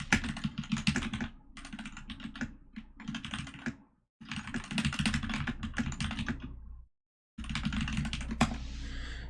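Rapid typing on a computer keyboard during a live coding session for a React, Redux and NestJS chat application, coming in several dense bursts of close clicking separated by short pauses, with no talking.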